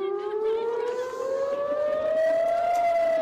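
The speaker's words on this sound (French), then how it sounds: "Manifestation d'ailleurs interrompue par une sirène d'attaque aérienne." An air raid siren wails loudly, interrupting a demonstration during the Israel-Hamas war, its tone slowly rising over a few seconds with a faint murmur underneath.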